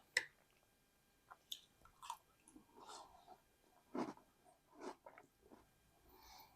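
Chewing a big spoonful of Wednesday chocolate breakfast cereal, close and fairly quiet, with soft crunching bites and wet mouth sounds in irregular bursts, no talking.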